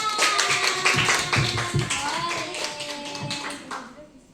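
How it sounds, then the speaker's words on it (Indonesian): Applause from a school class for a student group after their presentation, a steady patter of many hands clapping, fairly close and even, trailing off toward the end. "kasih tepuk tangan"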